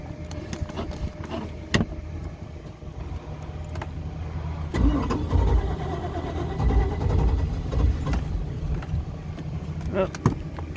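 A Chris Craft Scorpion 210 boat sits running on the water, its inboard engine a low rumble that swells louder midway with added throttle, mixed with clanks and handling noises nearby.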